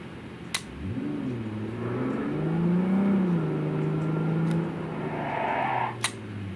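A car engine in Cyberpunk 2077 revs as the gas is pressed, its tone climbing and wavering through a sustained drone, with a few sharp clicks punctuating the steady, close engine sound.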